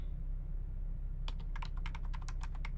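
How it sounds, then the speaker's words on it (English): In the video game Server is Down, keyboard typing starts after a steady low hum and runs as a quick, close, evenly spaced series of crisp key clicks. "Oh, I like the keyboard noises."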